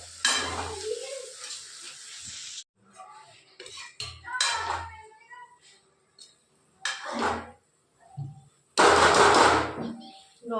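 Okra sabzi fries in a pan as a spoon scrapes and stirs it in short bursts, the sizzle crackling between quiet pauses with nearby clatter.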